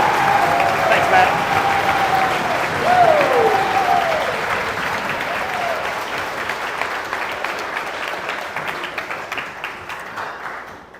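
Loud, dense audience applause welcoming a speaker at a Boise State event, strong at first, then slowly thinning and fading over about ten seconds, with a brief voice early on.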